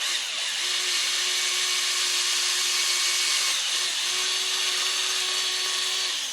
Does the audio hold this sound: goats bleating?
no